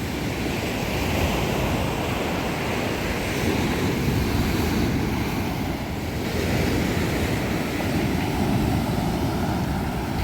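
Sea waves rolling onto Moulay Bousselham beach in northern Morocco, a dense, continuous surf roar with wind buffeting the microphone, steady and loud throughout with no voices.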